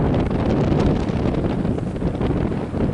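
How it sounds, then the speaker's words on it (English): Wind blows strongly outdoors around a small two-blade Savonius vertical-axis wind turbine, a loud, continuous rushing roar that buffets the microphone. "There it is in a little bit more wind."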